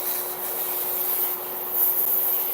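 A metal file grinding an acrylic nail makes a continuous harsh, gritty rasping scrape without pause, close to the listener.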